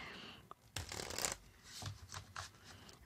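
Tarot cards shuffled by hand at close range: a few quiet, quick riffling and sliding bursts of card stock, with short pauses between them.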